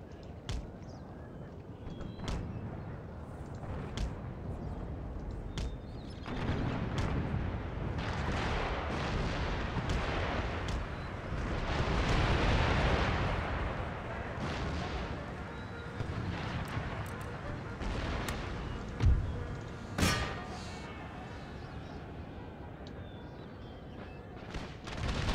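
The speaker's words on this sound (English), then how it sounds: "I can use my artillery to protect them." Artillery fire in a land battle of Empire Total War, a dense rumbling roar of cannon booms and distant crackling shots, with a couple of sharper reports standing out toward the end, mid-level and continuous.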